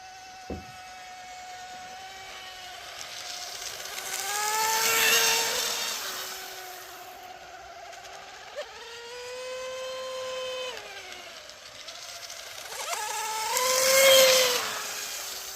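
Small, very fast RC hydroplane boats racing ovals on open water, their high-pitched whining motors rising and falling in pitch as they pass close and pull away, several loud swells with no talking.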